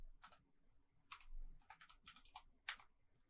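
Quiet bursts of computer keyboard typing come in short clusters of rapid key clicks with brief pauses between them, close and faint, while entering code in RStudio.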